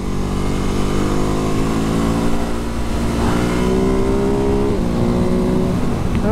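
A Ducati Hypermotard 950 engine roars loudly and revs up through the gears, its pitch climbing and dropping as it accelerates hard.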